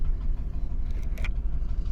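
A 1991 Ford F-150 pickup rolling under its own power after sitting eight years, its engine a close, steady low rumble with faint clinks and rattles on top.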